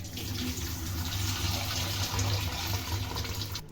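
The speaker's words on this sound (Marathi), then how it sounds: "मासे झालेत आता साफ करून, आता धुवून घेऊ स्वच्छ." Water runs steadily from a tap while cleaned fish are washed, a continuous, close rushing splash with no talk over it.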